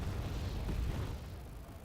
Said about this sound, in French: il y a une artillerie qui vient de je ne sais où qui a tiré là-bas